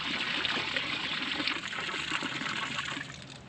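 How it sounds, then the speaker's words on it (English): Water runs steadily into a cows' pen on a farm, a continuous near trickling splash that holds level and eases off slightly at the end, with no talk. "that'll send all our water on over into Coco and Honey's pen"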